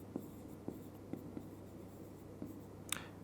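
A pencil writes on paper during a geometry construction lesson, making faint, close scratchy strokes and light taps at irregular intervals over a quiet background.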